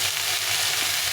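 Eggplant pieces, already slightly blackened, fry in a pan after a sprinkle of salt and turmeric, giving a steady, dense, close sizzle that holds evenly throughout with no voices.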